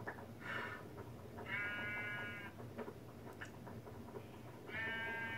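Sheep bleat in the Minecraft video game, three drawn-out, wavering calls spaced across the stretch over a steady bed of game ambience, with no one speaking.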